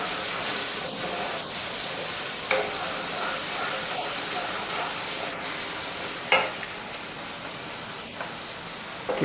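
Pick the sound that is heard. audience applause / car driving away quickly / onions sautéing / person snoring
onions sautéing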